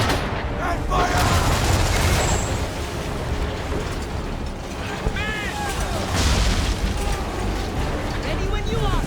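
Naval cannons fire in a battle scene in Assassin's Creed 3, a dense, rumbling barrage of booms and crackling blasts continuing steadily throughout, with shouted voices mixed into the din.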